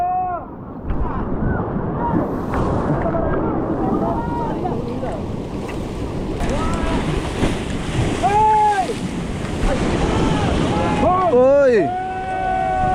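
Ocean waves and gusting wind wash around a small boat at sea, a constant rushing surge with wind buffeting the microphone, while several people shout and talk excitedly over it.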